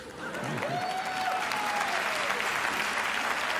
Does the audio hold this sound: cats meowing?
no